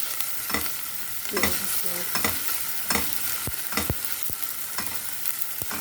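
Onions sizzle steadily as they fry in a pan, with a spoon or spatula repeatedly scraping and stirring through them in a close, uneven rhythm of clacks and swishes.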